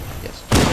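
Pistol shot in Halo CE multiplayer capture the flag, a single sharp loud bang near the end after a quieter stretch of background game noise.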